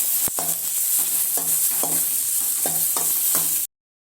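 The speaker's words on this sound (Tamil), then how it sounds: "வெங்காயம் நல்லா பொன்னிறமா வர வரைக்கும் வதக்கி விட்டுக்கலாம்" Onions sauté in a pan with mustard seeds and curry leaves, a continuous close sizzle broken by several rhythmic scraping stirs of a spatula, then cutting off abruptly.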